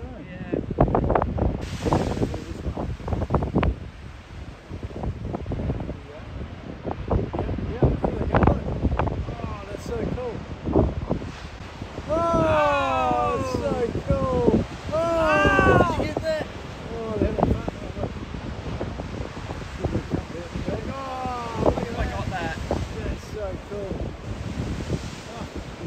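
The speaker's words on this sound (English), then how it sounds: "the surf is pumping today" Pumping ocean surf rolls in under gusty wind at a beach on the Eyre Peninsula, with repeated crashing bursts, heavy wind buffeting, and people talking over it.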